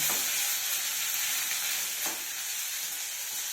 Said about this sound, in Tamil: வெங்காயம்லாம் நல்லா ப்ரௌனாக வறுக்கணுங்க